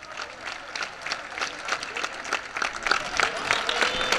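Crowd applauding in an indoor basketball arena during a Falconstar versus Montebelluna game, a steady wash of clapping that builds slightly over a few seconds while a commentator talks over it.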